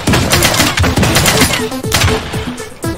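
Dense gunfire in the video game Realm Royale, with rapid overlapping shots and thuds from several players firing at once, loud and close with no pause.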